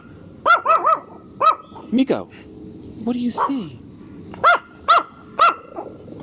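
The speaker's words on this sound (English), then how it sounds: "are you barking at the neighbor's dogs?" A dog barks repeatedly in sharp bursts at the neighbor's dogs, with someone speaking briefly in between; the barks come in clusters, fairly close and loud.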